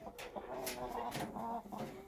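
Red junglefowl clucking in a short series of soft, close calls with brief pauses between them, fairly faint and without speech.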